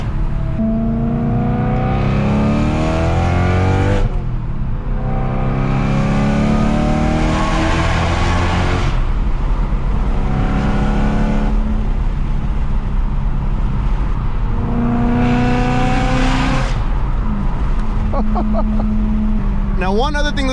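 A BMW M3 fitted with an aftermarket exhaust, valves open, roars loud and close, engine rising and falling through several revs inside a tunnel, with someone talking over it.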